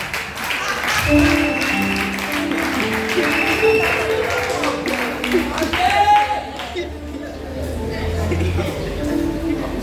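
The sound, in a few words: applause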